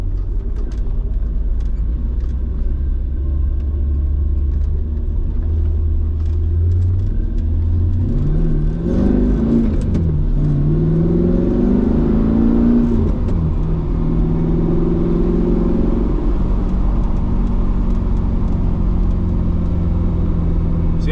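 An M113 armored vehicle's engine runs with a heavy, close rumble, rising into a strong rev around the middle before settling back to a steady drone.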